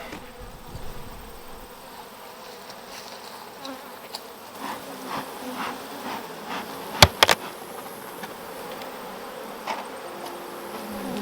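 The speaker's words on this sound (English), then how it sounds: "Now we're gonna head over to the yellow hive and start splitting the bees up." Honey bees drone and buzz steadily around a yellow hive being split, a dense close swarm hum with a few sharp clicks and knocks from the hive work.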